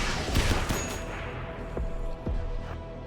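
Video game gunfire in a fight against the dead, with rapid loud bursts of shots crowding together over about three seconds and no talk.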